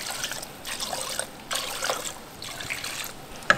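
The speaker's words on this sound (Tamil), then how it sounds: "தேவையான அளவு தண்ணி சேர்த்துருவோம்." Water pours and trickles into a pot for mint chicken pulao, about six glasses for three of rice, in uneven splashing pulses close by with no voices.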